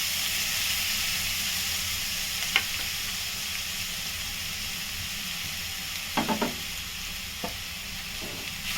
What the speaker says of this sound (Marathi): आता परतवून घेऊया.